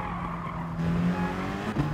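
Race car in the GT Sport video game braking hard into a corner, tyres squealing loudly over a droning engine for a couple of seconds, a second short squeal near the end.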